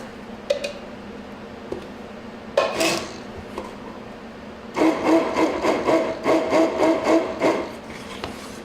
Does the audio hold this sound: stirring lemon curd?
yes